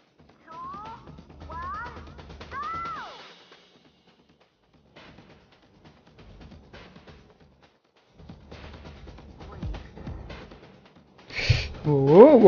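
A cat meows a few times in short rising-and-falling calls, then gives a louder, longer meow at the end, over quieter mechanical background sounds.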